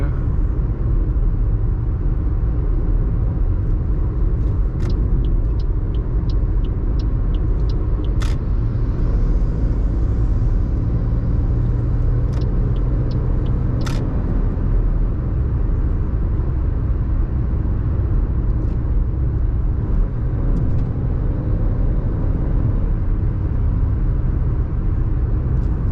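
Steady low engine drone and road rumble from a 2020 Toyota Aygo 1.0 under way, loud and continuous, with a few faint clicks on top and no talking.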